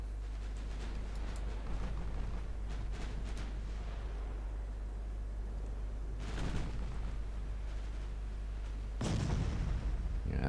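Naval guns fire in an Ultimate Admiral Dreadnoughts sea battle, 9-inch guns among them: a cluster of booming shots early on, another around the middle and a heavy blast near the end, over a constant low engine drone.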